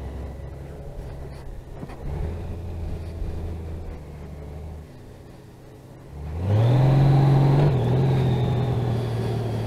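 A car moves through traffic with a steady engine rumble and whir, then revs and accelerates louder partway through, with a rising engine tone continuing to the end.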